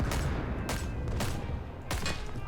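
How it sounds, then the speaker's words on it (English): Sustained automatic fire from a machine gun in the shooter game Rising Storm 2: Vietnam, a loud continuous rattle of rapid shots broken by several sharp louder bursts, with no voices over it. "my barrel's overheating because of this continuous fire"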